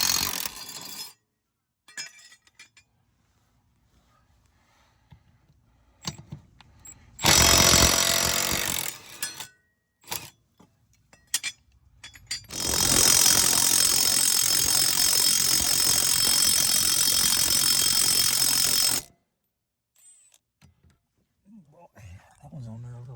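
Bolts on a lawn mower's cutting blades are worked loose with a ratchet: scattered quiet clicks and light taps, then two loud sustained mechanical bursts, the second lasting several seconds, before it goes quiet.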